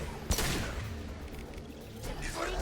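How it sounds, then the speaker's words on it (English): A single hard, sharp gunshot from Mass Effect 2, loud and close, followed by lingering battle noise and later weaker shots. "Firing a high impact shot."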